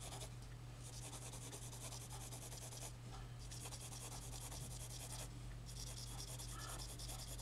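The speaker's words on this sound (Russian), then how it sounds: "Это сейчас у меня самый мягкий карандаш." A very soft pencil shades a drawing on paper with a steady, faint, scratchy rubbing of continuous back-and-forth strokes, broken by two brief pauses, with no one talking.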